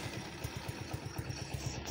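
A motorcycle engine idles close by with a steady rapid low thumping pulse, no voices heard.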